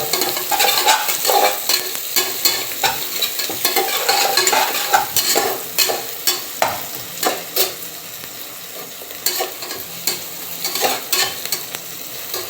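Cabbage and capsicum sauté in a hot pan for egg rice, a steady sizzle broken by repeated scraping stirs of a spoon against the pan, close and fairly loud with no talking.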